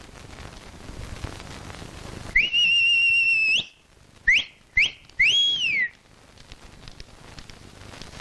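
A shrill whistle blown as a signal to leave, first one long sustained blast, then two short sharp chirps and a final rising-and-falling blast, loud and close over a faint hissing background.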